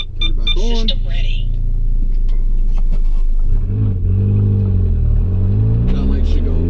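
A Stage 3+ tuned MK7 Volkswagen Golf R sits running, its engine rumbling loudly and then swelling into a rising rev, with a voice talking over the steady drone.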